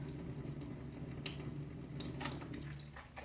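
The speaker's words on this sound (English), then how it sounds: "rinse all that soap off" A tap runs quietly while hands are rinsed of soap at a sink, a faint, continuous stream with a few soft splashes and no speech.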